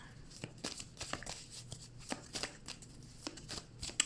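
Homemade oracle cards being shuffled for a reading, soft repeated riffling and card slaps in uneven bursts, close and quiet, with no one talking.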